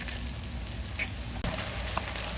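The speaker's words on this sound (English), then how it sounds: "Fry them on a medium heat." Corn tortillas frying in oil over medium heat, a steady close sizzle and crackle with faint pops, no talk.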